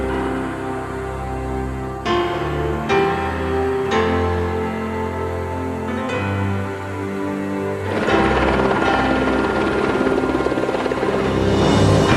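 A helicopter drones steadily with a loud, continuous rotor and engine roar that swells louder near the end; no voices.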